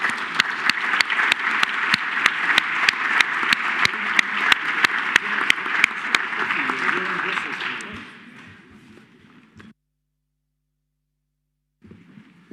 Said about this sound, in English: So big applause for our participants of this panel.